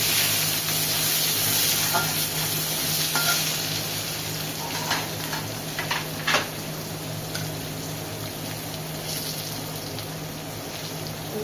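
Onions go into hot oil already spiced with cinnamon, cardamom, cumin and dried chilli, frying with a loud, continuous sizzle and a few scraping stirs and utensil clinks.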